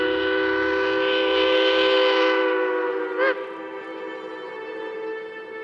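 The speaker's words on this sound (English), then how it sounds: "What's the train doing coming in this time of the night?" A loud, sustained train whistle sounds with a steady chord-like tone, wavering briefly partway through before continuing more softly.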